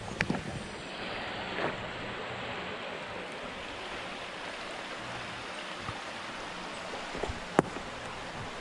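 Steady broadband rush of a creek flowing under an old stone bridge in Rolling Hill Park, Gladwyne, Pennsylvania, continuous and moderately loud, with a few faint clicks and taps over it.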